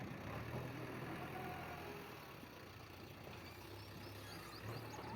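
A tractor engine runs steadily nearby while murram soil is loaded onto a cumin field. Its low, even rumble holds for the whole stretch with no voices.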